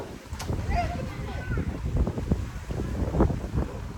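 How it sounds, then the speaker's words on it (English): Wind buffeting a microphone outdoors, a rough, continuous low rumble that swells and gusts throughout, with a person speaking under the noise. "It's a little windy, so don't mind me none."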